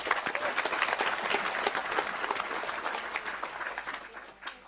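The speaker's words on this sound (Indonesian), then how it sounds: "Jadi saya minta Anda tepuk tangan untuk Mas C ya." A large seated audience at a Maiyah gathering with Cak Nun and Kyai Kanjeng bursts into sustained applause, dense steady clapping from many hands filling the space for several seconds before tapering slightly at the end.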